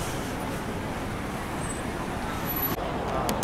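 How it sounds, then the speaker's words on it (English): Street traffic in Beijing as cars pull up, a constant roadway rumble and hiss at moderate distance with no distinct voices. "There's loads of cars just pulled up."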